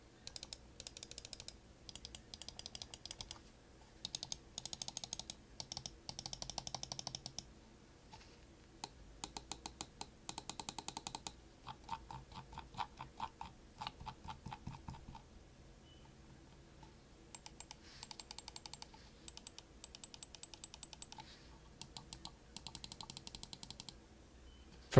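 Crisp main-button clicks from a Logitech G Pro gaming mouse alternate with those of a Logitech G302, sharp close clicks in quick bursts and rapid runs separated by short quiet gaps.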